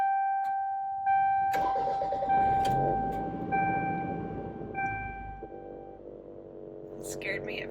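A Toyota Celica All-Trac engine with a boost leak cranks and catches, then settles into a steady idle, heard up close alongside a persistent electronic tone and brief chimes.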